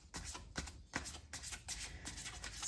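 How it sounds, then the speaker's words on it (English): Tarot cards being shuffled by hand, a close, soft rapid riffling in repeated short bursts with brief pauses between them, no talking over it. "A few more shuffles, Scorpio."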